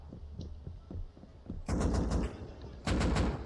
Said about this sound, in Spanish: Estás disparando de la casa, tío.